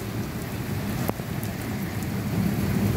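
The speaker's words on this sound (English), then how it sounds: "Now the rain's slowing down." Steady rain pours throughout a thunderstorm on an April evening, a dense continuous hiss close by with one brief sharp crack partway through; no voices are heard.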